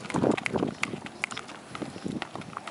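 A horse walks and steps over a board, its hooves landing in uneven thuds and clip-clops at close range, with faint background murmur.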